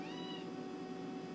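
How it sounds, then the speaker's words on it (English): A house cat meows indoors, with drawn-out harmonic cries in the first half second over a steady background hum, heard alone without talk. "This is my cat."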